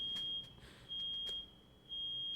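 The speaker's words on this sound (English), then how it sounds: "It sounds like there's a fire alarm going off somewhere" A steady high-pitched electronic alarm tone drones faintly in the background from a fire alarm going off somewhere nearby, with a few short clicks and soft bursts of noise over it.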